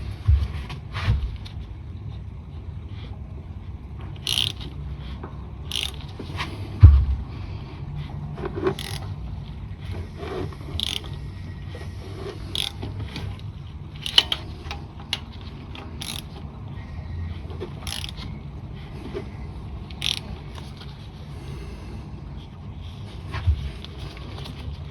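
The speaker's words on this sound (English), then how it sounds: "Now we'll need to spin the engine 2 revolutions clockwise by hand." A 1988–1992 Toyota Corolla 4A-F engine is turned clockwise by hand through two revolutions, giving quiet mechanical clicks and ratcheting ticks. The taps come at irregular intervals over a low background rumble, close and faint, with no voices.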